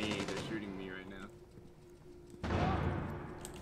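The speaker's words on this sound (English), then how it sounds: "They're shooting me right now." Gunfire in Rainbow Six Siege during a firefight, bursts of shots mixed with other game sounds and a talking voice, with a louder, denser stretch near the end.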